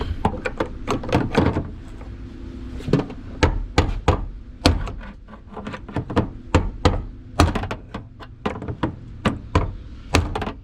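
Repeated sharp metallic knocks as a tool is struck to drive a fuel pump lock ring around on a Nissan Sentra, loud irregular bursts of taps spaced by short pauses.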